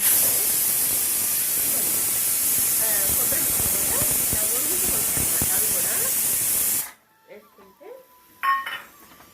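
A pressure cooker of dal vents steam in a loud, steady hiss for about seven seconds, then cuts off abruptly, leaving only faint, scattered kitchen clinks.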